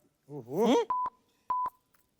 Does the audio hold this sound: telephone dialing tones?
yes